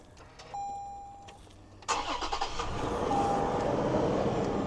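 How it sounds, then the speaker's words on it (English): A Toyota 4Runner engine cranks briefly and catches, then settles into a steady, close idle after a quiet stretch with a faint electronic tone. "So I'm going to go ahead and turn on the car."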